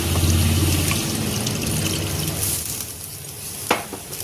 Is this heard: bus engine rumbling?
no